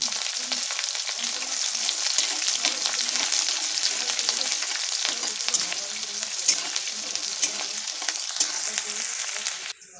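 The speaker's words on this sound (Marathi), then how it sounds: "लसूण आणि हिरव्या मिरच्या पण मी टाकून ते चांगले व्यवस्थित फ्राय करून घेते" Garlic and green chillies frying in oil in a pan, a loud, steady close sizzle with occasional stirring crackles that runs unbroken for the whole stretch and stops abruptly at the end.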